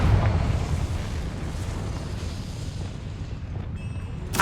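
Confringo fire-spell blast in the video game Hogwarts Legacy: a loud, rumbling explosion bursts at once, then rolls on as a dense, sustained roar that slowly thins, with a small crackle near the end.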